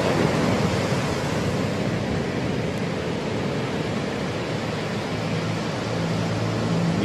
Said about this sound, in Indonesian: Ombak udah mulai besar.